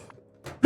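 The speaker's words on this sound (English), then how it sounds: "am I coughing?" A man gives a short, close cough, a quick double burst with a faint throat sound just before it.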